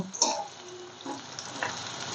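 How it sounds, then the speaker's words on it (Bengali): Onions frying in a pan for a meat curry, a soft uneven sizzle with a few sharper spits and scraping stirs, quiet and close. "পেঁয়াজটা ভালো করে ভাজা হচ্ছে"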